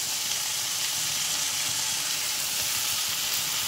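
Potatoes, peas and carrots for poha fry in a pan with a steady, loud, continuous sizzle and a faint stirring scrape underneath, no voices.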